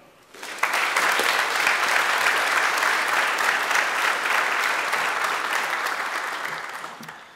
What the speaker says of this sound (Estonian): Nii et aplaus ka teile.